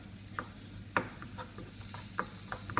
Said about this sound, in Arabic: البصله والسكينجبير والبزار والثومه والزيت العود يتشحروا، نديرهم يتشحروا لينا مزيان حتى طيب لينا البصله